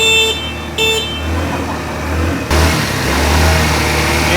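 A new Rusi motorcycle engine runs on choke, idling steadily with a low continuous hum and a couple of brief higher-pitched blips early on, close and fairly loud throughout.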